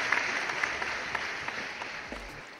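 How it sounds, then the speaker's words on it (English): Audience applause at a 5G telecom policy gathering, a steady even patter of clapping from a sizeable crowd that holds at moderate level and slowly fades. "So another huge round of applause for Aruna Sundararajan."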